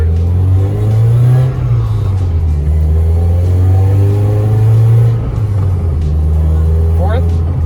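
A BMW E30 engine revving up loudly through the gears from the cabin, a steady mid-pitched roar rising and dropping at each shift, with brief pauses near one and a half and five seconds.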